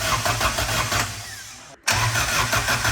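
A Honda Civic EK hatchback engine cranks and catches, running with a loud mid-pitched rumble, dipping briefly to near silence, then surging back to a steady idle close by.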